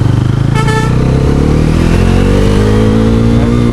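A 2025 Bajaj Pulsar NS400 motorcycle accelerates hard while being ridden, its engine loud and close, the note rising steadily through the revs with a brief higher whine partway through.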